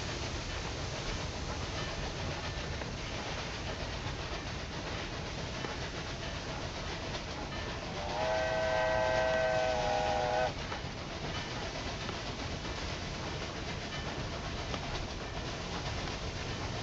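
A train running in the game Railway Empire 2, a continuous rumble and rolling rail noise throughout, with a whistle sounding for about two seconds partway through, no talk.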